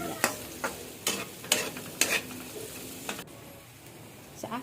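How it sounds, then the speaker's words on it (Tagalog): Garlic and onion sautéing in a pan while a spoon stirs, several sharp scraping strokes at uneven intervals over a faint sizzle, fairly close. "kailangan natin haluin mabuti para maluto yung bawang at sibuyas"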